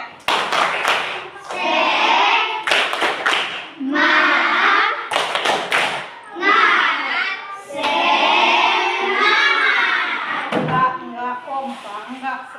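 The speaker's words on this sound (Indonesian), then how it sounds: "Tepuk semangat." Schoolchildren at a state primary school perform a rhythmic spirit-clap chant, bursts of sharp group claps alternating with loud chanted voices in a patterned call, close and energetic throughout.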